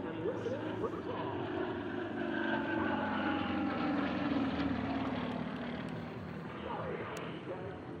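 Sukhoi SU-26 aerobatic aircraft fly overhead during a demo team display at Travis Air Force Base, with a steady, moderately distant propeller engine drone that swells and fades slightly.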